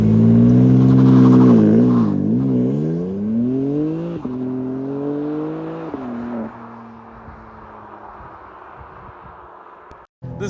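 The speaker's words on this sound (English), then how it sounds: "let's now do a launch control of the new M2." A 2024 BMW M2 G87 with a ZF 8-speed gearbox launches hard under launch control, its engine roaring loud and close as rising pitch sweeps mark rapid upshifts, then easing into a steadier drone as the car pulls away.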